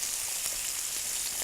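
Shrimp frying in a hot pan for Thai tom yum goong or pad thai, a dense bright crackling sizzle that stays steady and close, with no voices.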